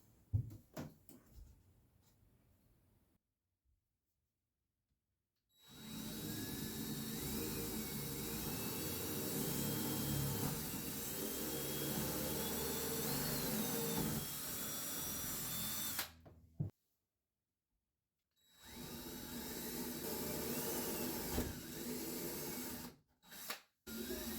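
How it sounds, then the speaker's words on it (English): A power drill bores into G10 fiberglass hooks in two long whining runs, the first about ten seconds and the second shorter, with quiet gaps and a few handling knocks around them. "But now I gotta drill holes for these."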